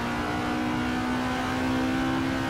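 Vintage Alfa Romeo race car with a five-speed manual gearbox in the Assetto Corsa game, its engine revving under throttle in a steady, loud mid-pitched drone that climbs slightly without break.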